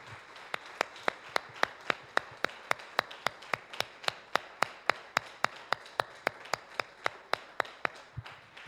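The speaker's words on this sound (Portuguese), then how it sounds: "Dê uma salva de palmas para Jesus." A single person claps steadily for Jesus at a church service, about two dozen sharp, evenly spaced claps, close and alone with no other voices.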